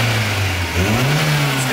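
Volkswagen Saveiro pickup engine revving up hard and loud close by, its pitch climbing and falling in one continuous surge with no talking over it.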